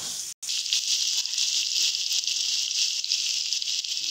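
Pumpkin with ground coriander, cumin and salt sizzling as it is sautéed in a pan, a steady bright hiss that runs throughout with one very brief gap near the start.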